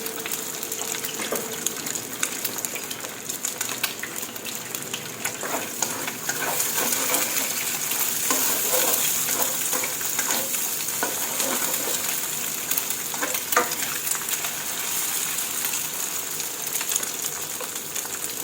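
Eggs stir-frying in a hot pan as the first step of a Thai bamboo shoot and egg dish, a steady loud sizzle with scraping stir strokes running throughout, no voices.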